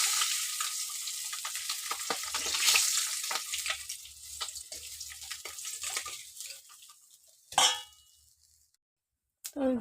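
Cumin seeds sizzle in hot oil left from frying fish, a steady crackling hiss with a few metal clangs, fading out near the end before a brief final clatter.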